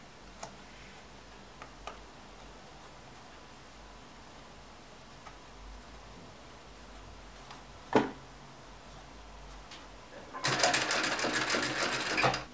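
Sewing machine stitching the last seam of a round leather or faux-leather pouch, a dense steady run of rapid stitching that rises loud in the final two seconds after quiet ticks and rustles.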